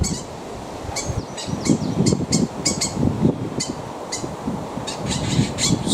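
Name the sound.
starling calling near its nest in hawthorn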